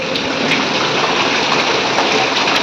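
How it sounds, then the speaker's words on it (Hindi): Rain that has fallen since the night before comes down steadily in a loud, close, continuous wash, with faint ticking drops scattered through the downpour. "अब बारिश तो रात से इतनी हो रही"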